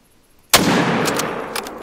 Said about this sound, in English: Hopefully that is the shot that we need